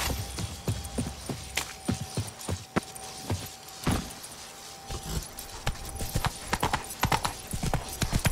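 Geralt's horse Roach galloping in The Witcher 3, a close, steady run of clip-clop hoofbeats with sharp individual strikes, some faint jangling of tack in the background.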